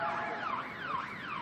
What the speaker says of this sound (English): siren in the background as the police rush past on some urgent errand